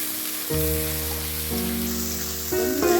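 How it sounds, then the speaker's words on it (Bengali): Koi fish fries in a pan with turmeric and spices, giving a steady soft sizzle and crackle that holds throughout, heard close up under a layer of background music. "এখন হচ্ছে ভালো করে ছেড়ে ভেজে কষিয়ে নেব"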